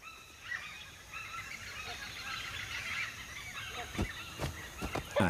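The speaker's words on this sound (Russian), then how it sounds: "Вот это коричневый птица-носорог." Brown hornbill calling in Thai forest, a series of loud honking, goose-like calls against a steady background chorus of insects and birds, with several sharp bursts near the end.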